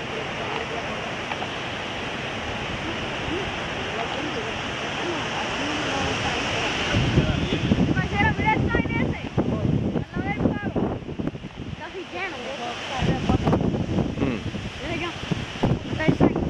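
A swollen river rushes during Hurricane Irene, a dense steady roar of churning water heard up close for the whole stretch, with wind buffeting the microphone and people talking in Spanish over it.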